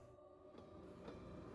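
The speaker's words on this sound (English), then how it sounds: "you can almost mix up that train car sound with a clock sound" A train car in the video game Pathologic 2 rumbles low and steady, with faint rhythmic clicks ticking through the quiet background.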